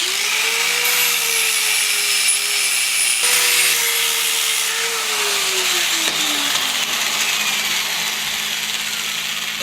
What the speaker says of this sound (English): So now I can get at these and grind them down.